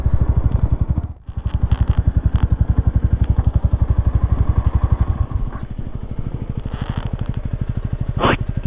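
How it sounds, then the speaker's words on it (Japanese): A Honda Rebel 250 or Kawasaki 250TR motorcycle engine runs up close at a steady, throbbing pulse while the bike slows and is parked, and a short dip and brief high whine break the continuous rumble. "ちょっとバイクどっか止めましょう"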